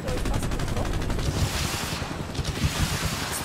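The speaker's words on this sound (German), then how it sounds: "Nein, wir werden beschossen, Servo." Rapid, continuous gunfire in the video game Battlefield: Bad Company 2, a dense rattling barrage with rumbling low-end noise throughout, fairly loud and unbroken.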